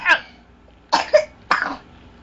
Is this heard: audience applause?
no